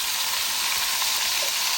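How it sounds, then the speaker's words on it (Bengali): Onion and garlic paste sizzling in hot oil for a rohu fish and cauliflower curry, a steady dense frying hiss that runs unbroken and close throughout. "এখানে তেলের মধ্যে দিয়ে দিলাম পেঁয়াজ রসুন বাটা দিয়ে দেবো"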